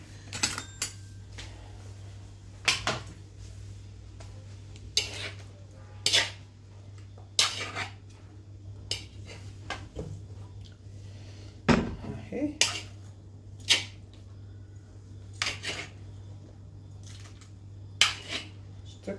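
Metal utensil clinks and scrapes against a pan while mixing Spanish tchektchouka with olive oil, irregular sharp taps spread throughout over a steady low hum.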